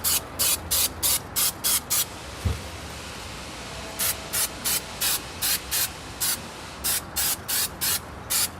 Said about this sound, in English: I'm not spraying past the edge, I'm just kind of spraying up to the edge a little bit.